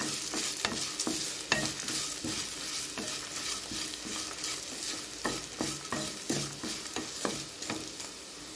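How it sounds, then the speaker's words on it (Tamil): Grated coconut roasting in a pan on a low flame, with continuous sizzling and frequent rhythmic scraping and stirring strokes throughout. "இப்போ ஸ்டவ் சிம்லேயே வச்சு 1 நிமிஷம் தேங்காய் துருவலை வறுத்துக்கலாங்க."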